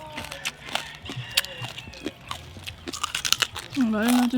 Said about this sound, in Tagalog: Another crispy bite.